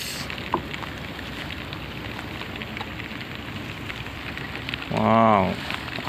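Steady rain hisses and patters on surfaces throughout, a dense even wash of sound, with a brief voice breaking through near the end.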